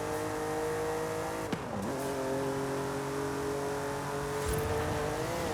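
A 1966 five-speed car engine from the racing game Forza Horizon 5 drones steadily, pitch dipping with a quick gear shift and climbing again, with no talk.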